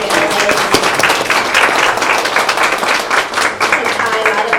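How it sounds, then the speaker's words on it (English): An audience at a community housing forum gives a lively round of applause for the panelists, many hands clapping up close and loud, with voices mixed in beneath the clapping. "can we just have a round of applause for our wonderful panelists?"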